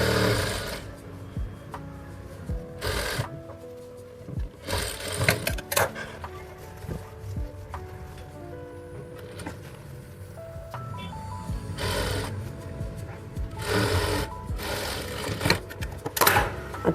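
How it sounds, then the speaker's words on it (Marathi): A sewing machine stitches blouse fabric in short bursts of rapid clatter separated by quiet pauses, heard up close and alone. "आता बघा 1 इंचाची शिलाई मारली."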